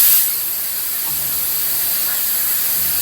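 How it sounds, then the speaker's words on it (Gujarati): Steam hisses steadily from a pressure cooker on a kitchen stove while dal boils, a loud, close, continuous spray of hiss after a brief louder burst at the start. "અને કુકર તો સીટી મારે છે, સીટી ઉપર સીટી."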